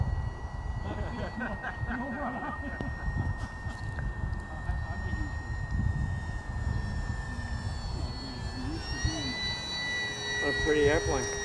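A 1.5 m FMS Cessna 182 radio-controlled model airplane with an electric 4-cell 3600 battery setup whines steadily through its maiden flight, a continuous high tone that shifts in pitch near the end, with people talking and broad outdoor noise underneath.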